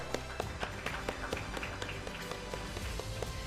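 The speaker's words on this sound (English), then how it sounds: "Let's give him a round of applause." Conference audience at a summit session claps for a speaker after he receives a souvenir, a moderate, slightly distant round of applause with scattered distinct claps, fairly quiet and continuous.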